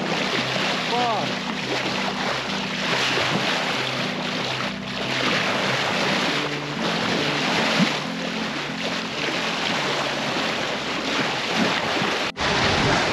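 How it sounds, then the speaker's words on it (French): Wind rushing steadily over open sea while sailing in rising breeze, a continuous loud broadband wash with water noise and a low tonal hum underneath throughout. "Ça y est, le vent tant espéré arrive."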